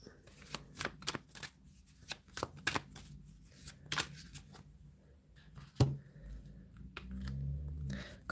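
Tarot cards are shuffled close by in quick riffling bursts with short pauses between, a soft papery flutter and slap, and a faint voice speaks briefly near the end.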